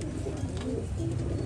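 Pigeons in a loft coo with a low, steady murmur that carries through the whole short stretch, softly mixed with faint background noise.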